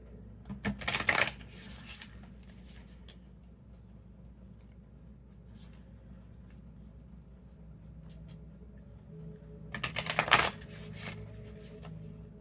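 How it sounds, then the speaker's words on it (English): Tarot cards are shuffled twice in quick riffling bursts, one near the start and one near the end, with quiet rustling in between. "I'm going to shuffle it a couple times off screen"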